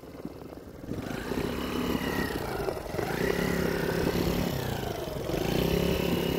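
A Yamaha YFZ50 youth ATV ridden off-road runs steadily nearby, its small engine droning and rising slightly in pitch as it accelerates, with no talk over it.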